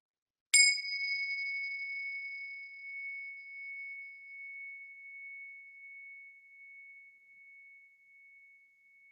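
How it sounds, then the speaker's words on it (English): A single bell is struck once, giving a bright ding that rings out with a long, steady, pure tone. It fades slowly over about nine seconds in an otherwise silent room. "I'm going to ring the bells."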